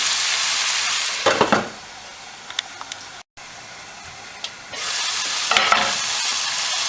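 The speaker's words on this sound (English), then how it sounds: "turn the heat down a little bit, pop the lid on, and just let those tomatoes cook for a wee while" Tomatoes for a home-style chicken curry simmering in a pan, with a steady sizzling hiss that drops away when the lid goes on and returns later, plus a few soft clicks and clatters in between.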